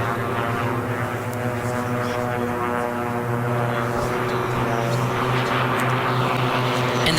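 Propeller biplanes drone in a race at the Reno Air Races 2018, a steady loud buzzing engine roar with a pulsing tone that swells slightly as the aircraft pass, without talk.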